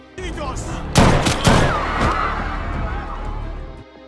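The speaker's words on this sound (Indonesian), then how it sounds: "Polisi kemudian menembak Phil di dada, menjatuhkannya." Gunfire in a dramatic film scene where police shoot a man in the chest: two loud sharp bangs about half a second apart, followed by a sustained noisy wash of movie sound effects and score.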